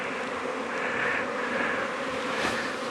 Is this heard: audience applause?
no